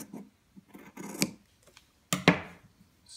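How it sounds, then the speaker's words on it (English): Scissors snip through fabric for a 1:12 scale robe, a few soft rubbing sounds leading to two sharp close cuts. "So now you're going to take your scissors, line it up right in the middle,"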